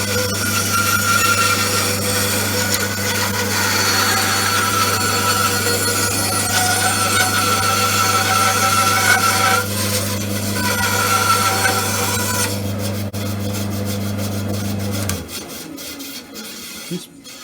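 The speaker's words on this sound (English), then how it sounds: "This bandsaw is performing very well after a tune-up." A tuned-up bandsaw cuts through wood with a steady low motor hum and a continuous rasping bite, running evenly for about fifteen seconds before the motor cuts out and spins down, leaving faint shop clatter.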